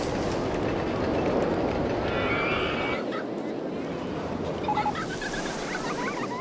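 In RollerCoaster Tycoon 2, a roller coaster train runs along its track in a steady rumbling roar that fades slightly midway, with faint screeching squeals and someone talking over it.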